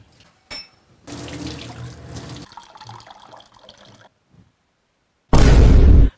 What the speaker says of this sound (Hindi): साबुन से बर्तनों को धो रहे या बर्तनों से साबुन को धो रहे?